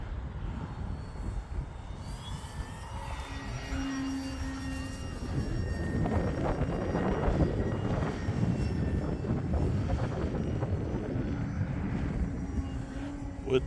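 E-flite Commander mPd RC airplane flying in windy winter conditions, its small electric motor whining and surging in pitch as it passes, fairly distant, with power rising toward the middle and holding steady afterward.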